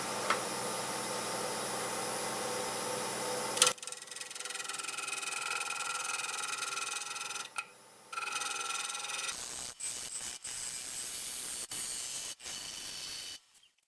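A wood lathe spins a segmented star bowl at 1200 rpm while it is flattened, giving a steady scraping, rubbing whir that changes character partway through, with brief pauses and sharp ticks near the end.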